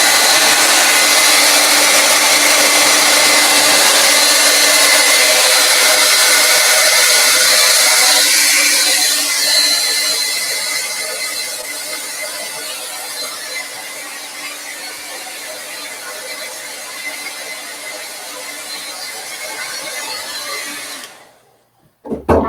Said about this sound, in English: So I'm just going to start blow drying here.